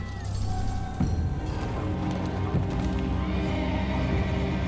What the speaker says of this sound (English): No, save the horse.